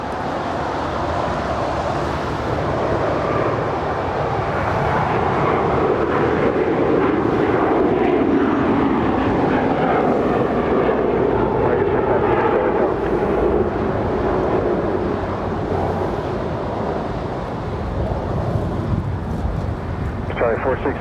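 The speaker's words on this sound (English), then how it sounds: "British Airways 777-300ER, flight 281, coming in from London, making that final turn" British Airways Boeing 777-300ER jet making its final turn to land at LAX at night, a loud continuous rumbling engine roar sustained throughout, with talk over it.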